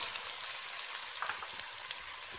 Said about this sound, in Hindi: अब इसमें मटर ऐड करेंगे